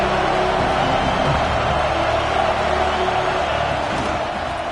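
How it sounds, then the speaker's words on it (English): Stadium crowd noise from an American football video game, a steady loud roar of cheering that fills the whole stretch without breaks. "This crowd ready to make its presence known."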